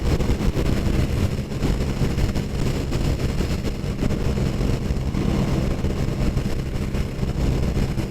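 A Honda Super Cub 125 engine labors at full throttle heading uphill, its continuous dense drone mixed with heavy wind buffeting on the microphone throughout.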